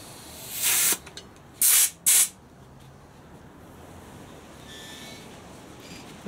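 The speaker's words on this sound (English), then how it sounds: "I'll put some air in it and that should just pop it all out" Compressed air hisses into a tyre tube in three short, loud bursts to seat the bead, separated by quiet gaps, with a final burst starting right at the end.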